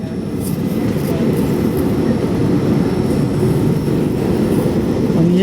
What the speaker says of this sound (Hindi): ये देखिए वंदे भारत तो आ गई सामने से।